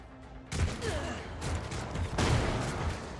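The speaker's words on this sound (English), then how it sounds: "Yep, there's the exploding barrel." A barrel explodes in the Warhammer 40K: Rogue Trader video game with a sudden loud blast and a rumbling burst that carries on for a few seconds, like a volley of gunfire.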